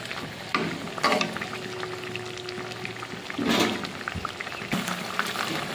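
Fried khoira fish slipped into boiling curry gravy, with bursts of sizzling and bubbling, a few soft splashes and stirring sounds, close and moderately loud, no talking.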